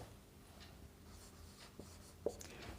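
Chalk or marker strokes on a board during a Class 10 trigonometry lesson, faint short scratches and taps in a quiet room, with a slightly sharper tap near the end.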